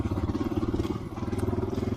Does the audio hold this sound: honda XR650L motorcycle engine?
yes